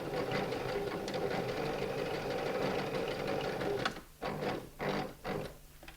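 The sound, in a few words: sewing machine stitching felt, reversing over the stitches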